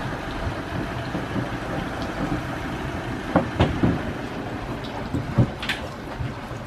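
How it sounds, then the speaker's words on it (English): A Linssen 320 AC Dutch Sturdy river cruiser's engine runs at a steady low drone heard from outside on deck, with wind buffeting the microphone and a few short thumps toward the end. "The engine's still running."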